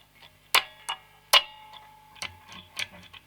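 Several sharp mechanical clicks of a Fender Jaguar electric guitar's pickup selector switch, irregularly spaced, with a faint electric hum in between; close and distinct with no talking.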